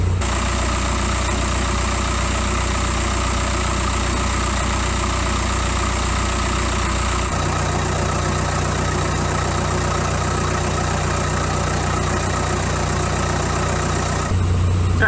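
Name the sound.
car engine idling with front wheels spinning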